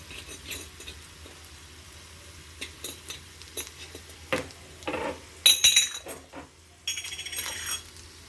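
Cumin and mustard seeds dropped into a hot pan for tempering a tomato dal, heard as scattered small clinks and light crackling sizzles, sparse at first then busier toward the end, close by with no talk.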